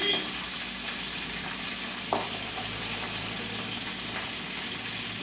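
Small brinjals fry in oil over low heat for Tamil kathirikai kuzhambu, making a steady soft sizzle with a single clink near the middle. The sound is close and fairly quiet.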